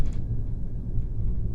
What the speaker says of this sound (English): I'm sorry about the noise in the background.